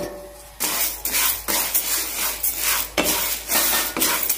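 Moong dal is dry-roasted in a kadai for payasam, stirred with a spatula in a steady rhythm of loud scraping, rasping strokes and rattling lentils, close up with no talk.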